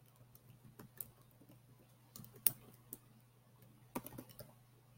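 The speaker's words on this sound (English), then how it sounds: "And you can see my typing leaves a lot to be desired." Light typing on a computer keyboard, soft scattered key clicks in short irregular bursts over a low steady hum, fairly quiet and close.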